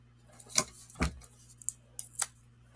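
Scissors snip paper for card making, a few distinct crisp cuts spaced irregularly, close and fairly quiet, with light rustling of paper between them.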